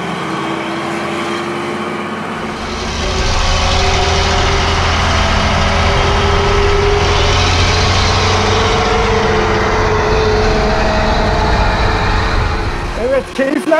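A Mercedes O302 bus engine idles with the rear doors open, a steady low rumble that grows louder and fuller after a couple of seconds, continuing evenly to the end.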